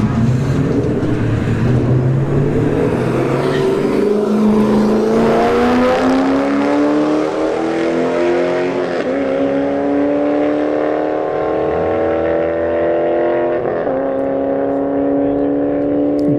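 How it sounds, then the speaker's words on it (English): Corvette C5 and Golf GTI launching in a drag strip race, engines revving hard through rising gear sweeps, loud and close, then fading as the cars pull away down the track. "C5 in the left lane versus a Golf GTI on the right"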